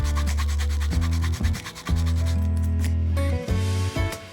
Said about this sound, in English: Give it a little scratch with an awl.